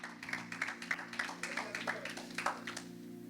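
Church congregation clapping in rhythm during a Spanish-language sermon, a steady run of sharp, regular claps about twice a second over a low sustained music drone.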